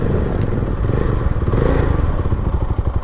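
A Jawa 42 FJ 350 motorcycle engine idles loud and close with a steady, throbbing low thump and a light mechanical clatter throughout.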